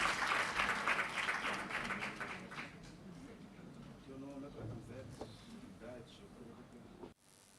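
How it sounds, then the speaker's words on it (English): An audience at a conference breakout session applauds the presenters, a burst of dense clapping that fades after a couple of seconds as voices carry on talking. "Let's applaud them once again."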